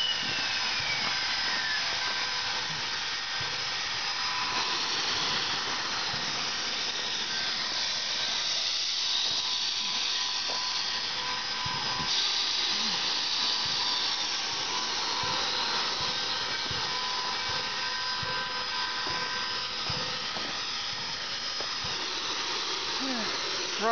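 Steam locomotive pulling a pumpkin train at an open house, giving a steady broadband hiss of escaping steam with a continuous rushing roar and faint whistle-like tones, loud and close throughout.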